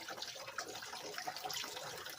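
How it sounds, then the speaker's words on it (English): Blue water being filtered while a game board and gold fingers are sprayed, a steady close trickling and rushing of liquid that runs on without a break and carries no voices. "we're just filtering out all of this blue water"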